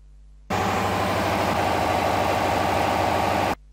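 A diesel engine runs steadily under a load test on a lab test bench, a loud, continuous rumbling drone that starts abruptly and holds even for about three seconds before cutting off.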